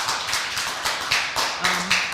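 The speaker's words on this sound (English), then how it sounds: "That really deserves applause" Audience clapping at a community news broadcast event, a brief burst of fairly loud, close applause with distinct irregular hand claps, no talk over it.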